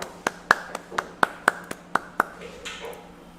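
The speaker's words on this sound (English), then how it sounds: "I clapped for both of you guys." One person claps their hands at a pool table, about ten sharp, fairly close claps in an uneven rhythm that slow and soften toward the end, with no talking.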